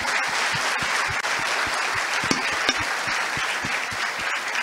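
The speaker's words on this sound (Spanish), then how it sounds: "les brindamos un fuerte aplauso" Audience applause for panelists at an economics graduates' day event, a sustained crowd of clapping hands at moderate level, with a few distinct nearer claps standing out from the continuous wash.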